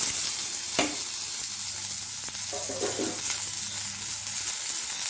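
Onion frying in coconut oil, a steady, close sizzle with a sharp burst near the start as it hits the pan and soft stirring scrapes after, with no voices.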